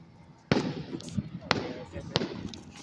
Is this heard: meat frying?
no